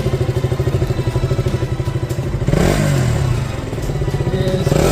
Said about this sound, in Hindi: ये आइडल में इसका साउंड सुनिए आप लोग।